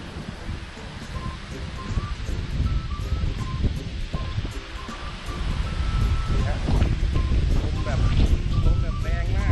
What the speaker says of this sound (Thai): ลมแบบแรงมาก